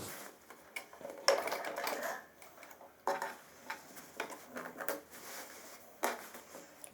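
A tailor's sewing machine runs a half-foot stitch down a gents' pant pocket seam in bursts, with quieter pauses between the runs, at moderate loudness and with no voices.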